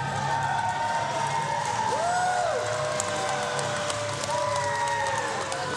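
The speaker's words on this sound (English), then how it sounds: "This crowd cheering for Rhett Titus." A wrestling crowd at an independent show cheers and shouts steadily throughout, a continuous roar of voices with whistle-like whoops rising and falling over it, heard from within the arena.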